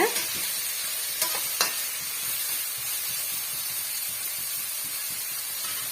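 Onions sautéing in a pan for a siru keerai (spinach) poriyal give a steady, close sizzle throughout, with a few sharp stirring clinks near the start and no voices.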